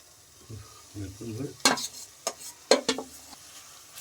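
Marinated yogurt chicken, cooked without oil, hits a pan on high flame and sizzles while a spatula scrapes and stirs in a few sharp strokes, close and fairly loud.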